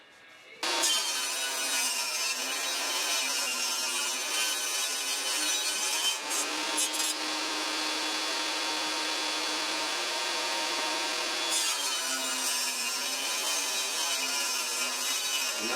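A table saw cuts glued wood strips against the fence into even chessboard squares. After the motor starts with a sharp jump, a loud, continuous whine with a rasping bite runs for about fifteen seconds, and its pitch dips while the blade is in the cut.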